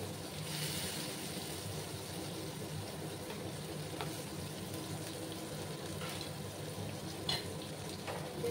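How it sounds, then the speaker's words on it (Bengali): Chopped onions with green chillies fry in hot oil, a steady bubbling sizzle with a few stirring clinks, moderately near and continuous. "একটু লাল লাল করে পেঁয়াজগুলোকে ভেজে নিতে হবে"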